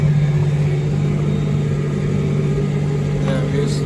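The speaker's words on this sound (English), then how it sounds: "Tractor trailer, there he is." A tractor trailer hauling sugar beet drives through a harvested field, giving a steady, loud low engine drone and rumble throughout, with faint voices nearby.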